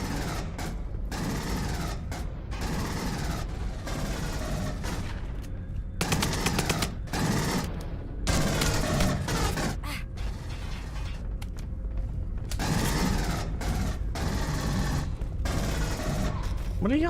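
Video game Aliens: Colonial Marines, with bursts of rapid automatic gunfire that keep cutting in and out, mixed with mechanical clanks and creaks, loud and close. Faint talk sits under the shooting at times.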